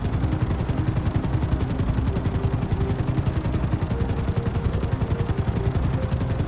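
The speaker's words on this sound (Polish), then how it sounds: "Helikopter to jest jedyny pojazd GTA V, z którym mam gigantyczne problemy, jeśli chodzi o sterowanie." Helicopter in GTA V flying with a steady, loud, fast rotor chop that pulses evenly throughout, close and continuous with no talk over it.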